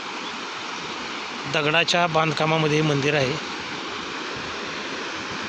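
River water rushes around the stone-built Koteshwar temple standing mid-river, a steady, broad roar that runs the whole time while someone speaks briefly over it in the middle.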